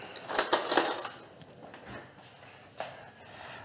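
A metal spoon clinks against dishes in a home kitchen, a brief cluster of light, bright taps in the first second followed by a quieter knock and a faint clink near the end.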